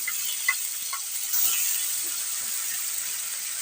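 Chicken fries for gravy curry after a tomato masala paste is added. It gives a constant close sizzle and hiss with light stirring taps and scrapes.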